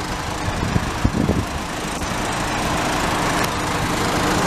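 Steady engine idle from a 2011 GMC Terrain's 2.4-liter Ecotec four-cylinder, a continuous even hum heard up close with no talking, a few faint knocks early on.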